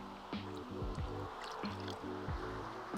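Water poured into a bucket of dry fishing bait feed, a soft trickling and dripping with rhythmic squishy pulses, quiet and close.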